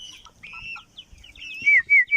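A young rooster (stag) of the Kai Sotto strain clucks and gives high, squeaky calls close by, ending in three louder quick calls.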